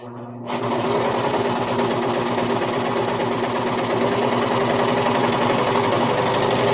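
A Viking serger runs steadily at speed, stitching fabric with a loud, continuous rapid mechanical chatter and hum after a brief quiet start, with no talking.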